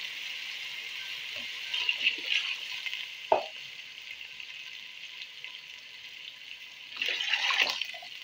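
Water pours steadily into a pot of rice with a hissing, rushing wash, a brief clank partway through, then a louder splashing stretch near the end.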